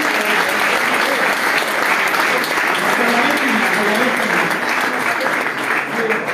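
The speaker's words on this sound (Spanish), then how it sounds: "se merece entonces un gran fuerte aplauso" Steady, loud applause from a crowd at a homebrew beer competition award ceremony, a thick, continuous wash of clapping that holds evenly from start to finish.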